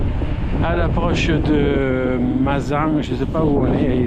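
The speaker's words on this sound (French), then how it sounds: "le vent il est en train de se lever un tout petit peu" Wind buffets the microphone steadily on a mountain bike ride near Venasque, roaring under someone talking close up.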